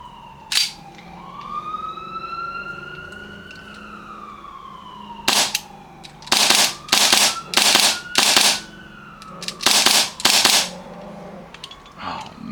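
An EX01 5KU blowback pistol is dry fired in a series of sharp, close clacks, first single shots and then a quick run of about six. A wavering, siren-like tone carries on faintly in the background.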